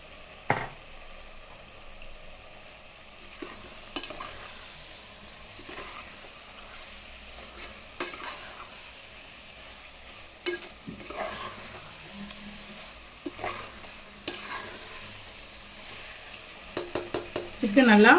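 Chicken pieces for chicken biryani frying in a pan, a soft continuous sizzle broken by intermittent scrapes and knocks of a spoon stirring, growing to a cluster of louder clatters near the end.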